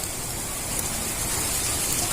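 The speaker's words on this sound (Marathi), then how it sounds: "आमच्या इथं बी एक पाऊस झालाय चांगला." Steady rain falling in a rural village during the monsoon, a dense, even wash of hiss that stays unchanged and fairly loud from start to end, with no voices.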